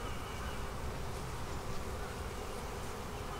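Honey bees swarm and buzz at the entrance of a beehive during a hive inspection, a dense, steady, close drone with no pauses and no talk.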